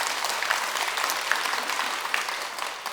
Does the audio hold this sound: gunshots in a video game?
no